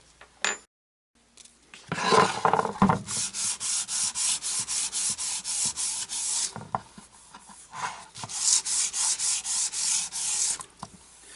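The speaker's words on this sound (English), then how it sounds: "Just going to give it a really light sanding" Rhythmic back-and-forth scratching of fine 400-grit sandpaper lightly sanding a polyurethane-coated wood surface, steady close strokes with a brief pause midway before resuming.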